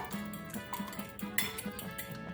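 Biscuit ingredients with vanilla extract are mixed in a bowl, heard as quiet, repeated clinks of a utensil against the dish in a loose rhythm, faint and close.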